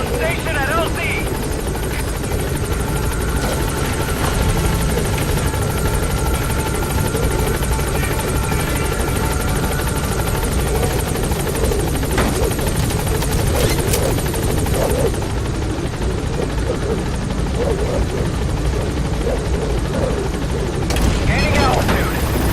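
Helicopter rotor and engine from Metal Gear Solid V: The Phantom Pain drone steadily throughout as the aircraft gains altitude, with a radio voice talking over it and occasional bursts of gunfire and booms in the background.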